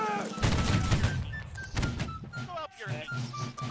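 Line infantry fire a musket volley in the Holdfast: Nations At War game, a ragged crackle of many shots in broad bursts over several seconds, loud and close, with shouting voices over the gunfire.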